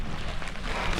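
Wind and rain buffet the microphone on the Gangadikal peak trek in heavy rain, a steady rushing roar with low rumbling gusts that swell toward the end, no voices.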